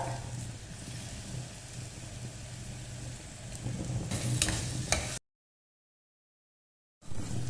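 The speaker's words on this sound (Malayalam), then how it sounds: "ഇതൊക്കെ കൂടിയിട്ട് നല്ലോണം വഴറ്റുക ഈ മസാലൻ്റെയൊക്കെ പച്ചമണം പോകുന്നവർക്കും നല്ലോണം വഴറ്റിയെടുക്കുക" Masala for a Kerala mutton curry sautés in a pan, giving a low continuous sizzle with stirring scrapes that grow louder toward the end, then cut to silence for about two seconds before the sizzling resumes.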